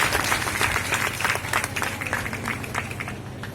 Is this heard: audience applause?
yes